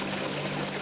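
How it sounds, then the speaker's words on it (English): Water pouring into a sinking car, a steady broadband rushing gush, loud and continuous, very brief. "the water rushes in."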